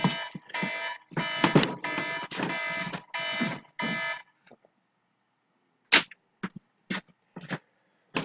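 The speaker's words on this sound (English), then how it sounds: "My alarm always goes off after I wake up." An alarm clock goes off in a room, first as a long run of loud repeated beeping bursts with no talk, then after a short pause as a few sharper scattered beeps before it stops.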